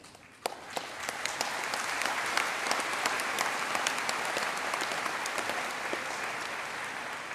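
A large crowd gives sustained applause at a university graduation ceremony. The dense clapping swells after a sharp first clap and holds steady and loud throughout, with no voices.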